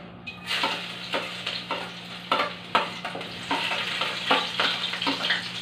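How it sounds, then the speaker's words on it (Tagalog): Garlic and onion sautéing in a hot pan, a continuous close sizzle broken by regular scraping strokes of a spatula, roughly one or two per second, with a low steady hum behind. "igisa muna natin ng bongga ang ating bawang, sibuyas"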